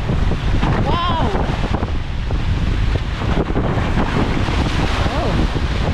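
Strong wind buffets the microphone as rough sea waves surge and crash around a fishing boat, a loud continuous roar with gusts, and voices calling out briefly over it.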